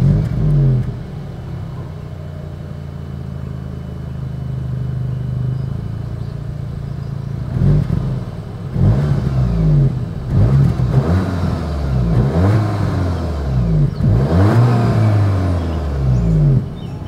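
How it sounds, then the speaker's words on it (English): A 2023 Volkswagen Arteon engine idles with a low rumble, then revs up repeatedly from about eight seconds on, each throaty exhaust burst rising and falling, close by. "As always, here is that exhaust clip."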